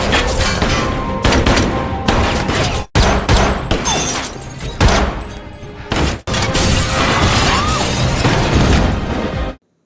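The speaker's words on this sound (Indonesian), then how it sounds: "Dan terjadilah aksi tembak-tembak dengan anak buahnya si kolonel." Sustained film shootout with rapid overlapping gunshots and crashes, a colonel's henchmen firing in bursts, loud and dense, broken by a few brief gaps before cutting off at the end.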